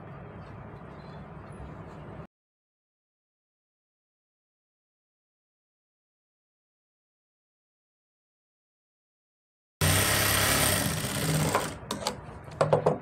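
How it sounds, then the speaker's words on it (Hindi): An electric sewing machine stitches sleeve fabric in two short runs of fast, even whirring separated by a long silent gap, the second burst louder and ending in a few clicks. "और इस पर सिलाई लगाएंगे हम।"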